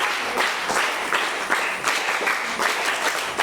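Students and parents clap together at a school Independence Day celebration, a steady dense burst of applause that carries on for several seconds, close and loud, with no talk over it.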